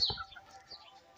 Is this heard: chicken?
yes